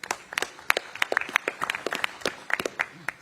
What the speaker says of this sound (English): Can we please get a round of applause for our brilliant MCs today?